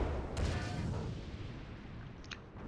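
Artillery fire echoes across an American Civil War battlefield in Napoleon Total War, with a sharp report at the start, a rumbling tail and another fainter crack near the end over a low battle din.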